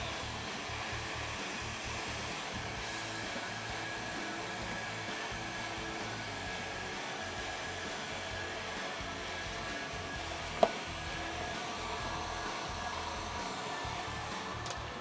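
A heat gun blows a steady, loud airflow drone while warming vinyl wrap on a motorcycle, continuous and close with one brief click near the end, and no speech.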